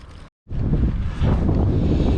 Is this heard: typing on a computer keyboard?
no